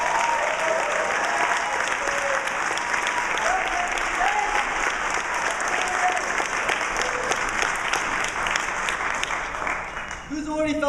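A conference audience gives a keynote speaker steady, full applause that lasts about ten seconds, then thins out and fades near the end.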